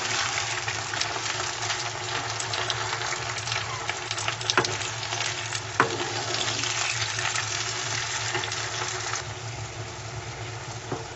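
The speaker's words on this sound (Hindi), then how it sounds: "अब हम इसमें टमाटर ऐड कर देंगे और इसे नरम होने तक पकाएंगे 5 से 6 मिनट तक मीडियम आंच पे, और चम्मच चलाते रहेंगे।" Tomatoes and onions fry in a pan over medium heat for a chicken biryani, sizzling steadily while a spoon stirs with occasional soft scrapes and clinks. The sizzle is fairly close and continuous, with no talking.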